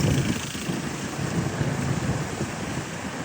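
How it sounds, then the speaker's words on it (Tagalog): Floodwater rushes across submerged rice fields during a typhoon, a steady, moderately loud broadband wash mixed with gusty wind buffeting the microphone, with no voices. "ang lakas ng baha."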